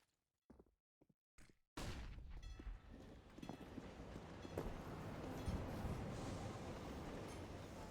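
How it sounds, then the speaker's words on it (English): In Counter-Strike on the Overpass map, a train rolls by overhead in game audio: a few sharp clicks, then a sudden, steady, loud rumbling roar that fills the rest of the clip. "Train rolls by overhead."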